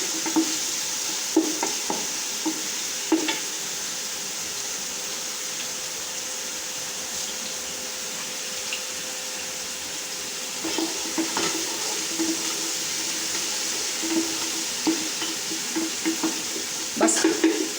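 Garlic-ginger paste frying and being stirred in a pan for a curry pakora, with a steady sizzle throughout and scattered scraping stir clicks, close and fairly quiet, with no talking.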